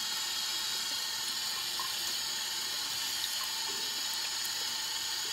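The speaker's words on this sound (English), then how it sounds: "I'm just going to wet it with water." A tap runs in a steady, hissing stream, constant and close, with no voices.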